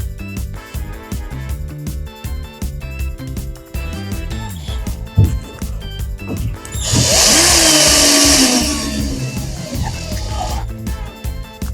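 A power drill drives one or two screws into a custom laser-cut tool cabinet, its whirring motor rising to a loud, steady high-pitched grind for several seconds amid background music and clatter.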